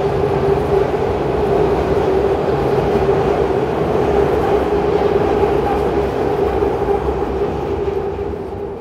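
A train passes on a Berlin street in a loud, continuous rumble with steady wheel and rail noise, easing slightly at the end.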